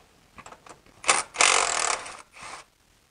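A ratchet on a long extension loosens a bolt on a BMW E83 X3 during oil pan gasket work, giving a few quick clicks followed by two louder bursts of rapid, close ratcheting.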